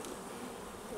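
Honeybees crowding a hive frame where two freshly mated young queens meet. A dense, steady buzz of many bees, close and even, fills the whole short moment without any voices.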